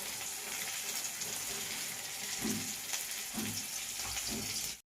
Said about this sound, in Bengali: দেখো পেঁয়াজটা ভালোভাবে ভাজা হয়ে গেছে